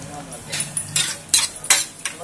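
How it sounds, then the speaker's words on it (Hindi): Cluster beans mixed in a pan with a spoon, heard as a rhythmic run of close metallic scrapes and clinks, roughly one every third of a second, over a faint sizzle. "तो ये मिक्स हो रहा है"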